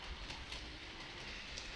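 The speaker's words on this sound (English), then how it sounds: "Now the train's going." A Hornby Dublo 80054 model steam train set runs on its track, giving a faint, steady rolling clatter with light rhythmic clicks, close by and alone.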